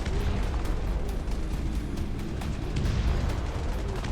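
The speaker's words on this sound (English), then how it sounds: "We could even do a bit of some incendiary bombing." Incendiary bombing in the Dustfront RTS game, a continuous dense rumble of booming explosions and bursts that never lets up, loud and wide.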